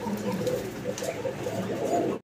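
Rajgolla (Golla) fancy pigeons coo in soft, repeated low rolling calls, close by and fairly quiet, with no talking.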